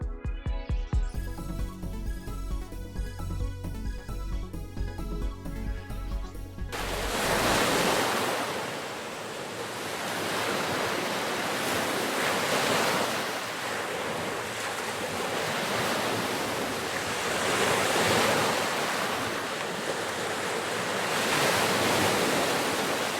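Waves wash steadily against the shore at Shield Preserve near Marblehead, Ohio, a broad, continuous surf roar with gentle surges and some wind buffeting the microphone, following a few seconds of different, tonal sound at the start.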